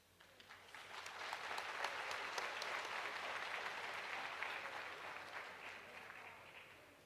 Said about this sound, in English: Another hand of applause, please